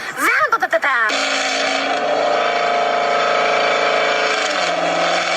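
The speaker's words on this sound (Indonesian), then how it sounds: "Ini adalah Chevrolet Camaro. Suara otot mobil Amerika ini tuh kayak gini coy." A Chevrolet Camaro American muscle car engine idles with a steady, loud, deep rumble after a short burst of sharp revs at the start. A voice is heard briefly over the opening.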